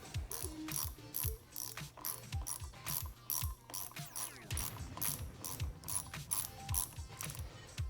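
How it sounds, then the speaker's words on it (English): A hand tool ratchets steadily while tightening the brake lever pivot bolt on a 2017+ Yamaha FZ, producing a close, rapid series of clicking pawl strokes with no talking. "And now using my tool while pressing on the pivot bolt so that it stays in its key, I'm going to tighten this up"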